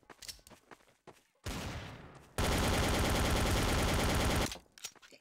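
Dense bursts of automatic gunfire from a Garry's Mod Trouble in Terrorist Town match: a short volley, then a loud sustained stream of rapid shots lasting about two seconds, followed by quieter game noise.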